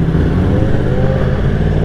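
2020 Yamaha R1 motorcycle fitted with an Austin Racing GP1R exhaust, a deep steady engine rumble held close and loud for the whole moment, with no voices.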